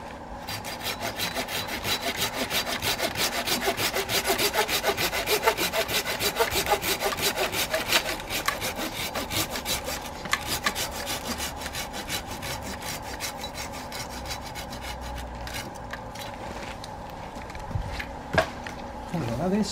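A hand saw cuts through a plum tree branch during pruning, with steady rhythmic back-and-forth rasping strokes heard close and loud, and someone speaking now and then over the sawing.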